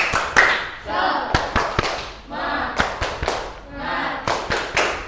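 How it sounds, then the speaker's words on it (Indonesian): A school class performs a rhythmic spirit clap, sharp unison hand claps and thumps falling in a set pattern, while the students chant loudly in chorus between the beats. "1, 2, 3. Tepuk semangat."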